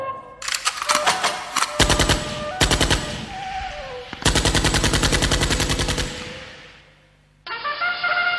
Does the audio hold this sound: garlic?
no